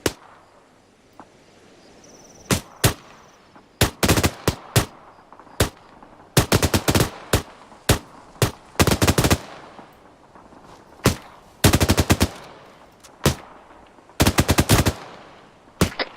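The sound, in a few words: gunfire in the ArmA 3 video game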